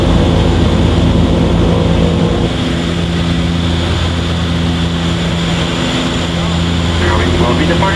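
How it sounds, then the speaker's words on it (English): Inside a Winair propeller airplane on approach to Saba's very short runway, a loud, constant cabin drone of the engines and props fills the space, with a slight drop in level partway through. "We're gonna take you on this Winair aircraft."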